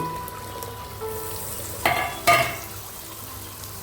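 Tomato paste being added and stirred into a simmering fish curry, a soft sizzle with two louder splashing, scraping bursts around the middle.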